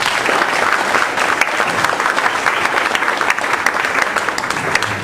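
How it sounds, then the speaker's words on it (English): Audience applause at a talk, dense and steady clapping from a crowd that holds strong from start to finish. "please give a big round of applause to Bud Gibson"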